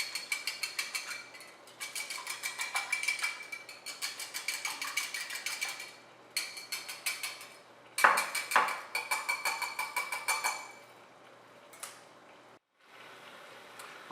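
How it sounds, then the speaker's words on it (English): Two eggs get a light whisking in a bowl, a steady rapid ticking of whisk against the dish in short bursts with brief pauses, close and clear with no talking. "lightly whisk 2 eggs."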